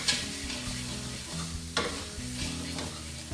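Spiced fried rice for vegan nasi goreng being stirred in a hot pan, with repeated scraping strokes over a soft, steady sizzle, close and fairly quiet.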